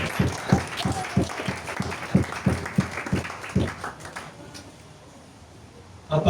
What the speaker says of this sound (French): Acclamons la parole de Dieu.